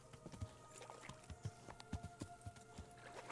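Horse hooves clip-clopping in the medieval game Kingdom Come: Deliverance, a quick, uneven trot of sharp thuds close by over a soft ambient bed.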